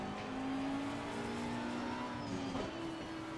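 In the Assetto Corsa Competizione video game, an Audi R8 LMS GT4 race car engine holds a steady, sustained tone that dips briefly near the end, fairly quiet and with no talking.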